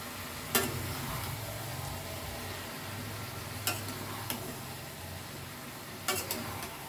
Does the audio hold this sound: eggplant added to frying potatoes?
yes